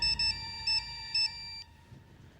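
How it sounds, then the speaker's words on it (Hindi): Mobile phone ringtone for an incoming call: a bright repeating electronic melody in short bursts that cuts off after about one and a half seconds, followed by quiet. "वाइफ का फोन है।"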